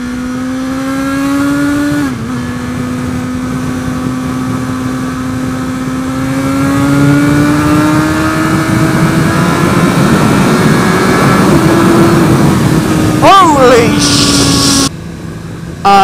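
A Suzuki GSX-R1000R sportbike accelerating hard, its engine whine climbing through the gears with brief dips at each shift, loud and close beneath wind roar, with a rider talking over it.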